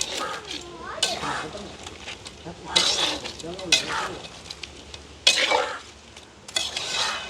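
Fried crab and squid are stir-fried in a pan with tomato and onion, giving soft sizzling broken by irregular clinks and scrapes of a utensil against the pan, with occasional louder knocks.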